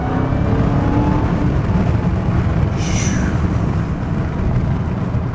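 A Dodge Charger Hellcat Redeye accelerates hard with a loud, dense roar and whine as its tires lose traction, the sound continuous and close throughout.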